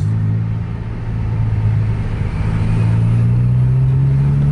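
A hard-running bus engine held at full throttle during a fast road chase, a loud continuous low drone whose pitch climbs steadily near the end, no voices over it.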